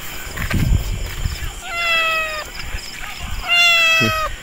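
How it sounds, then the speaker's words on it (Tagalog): A cat meows twice with long, drawn-out tonal cries, the second louder and closer, after some low rumbling handling noise, at an overnight stop on a long motorcycle ride on a Honda Click 125 V3. "Pusa."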